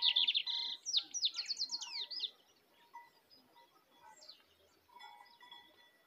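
A lined seedeater sings outdoors during a field search for wild males, its bright twittering phrases loud and clustered over the first two seconds, then fainter scattered notes and calls trailing off against quiet background.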